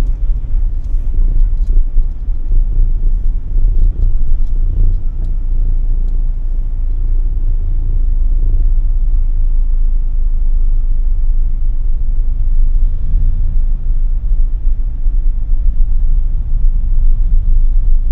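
Steady low engine rumble and road drone from inside a car stuck in heavy traffic on Rosas Avenue heading to Makati, a continuous muffled hum with no talk.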